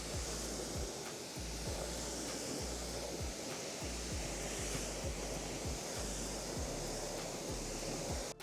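A pressure washer sprays a steady, loud hissing rush of water onto a car wheel to rinse off soap, the continuous spray broken by a regular low rhythmic pulsing throughout, with no voices.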